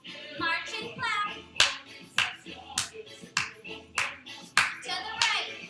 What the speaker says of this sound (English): march and clap